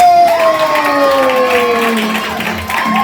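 An audience cheers and claps for a model walking the runway at a Ngäbe-Buglé church fiesta. Crowd noise and shouting mix with tonal sounds that rise and fall, under a loud, lively din.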